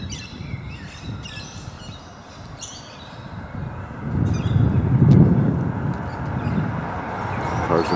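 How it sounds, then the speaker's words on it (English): A bird calls among eucalyptus gum trees in a small town, with its thin chirps coming in scattered bursts over steady traffic rumble from passing cars. "There's another curious bird right over here."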